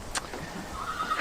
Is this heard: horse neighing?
yes